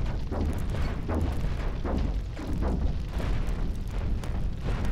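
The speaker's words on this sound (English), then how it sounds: "You can hear the fire that's burning through the ship hull right now" Fire eats through an enemy ship's hull in the space combat game Cosmoteer, a dense, continuous roar of low rumbling and thudding impacts that sits loud and steady throughout with no voices.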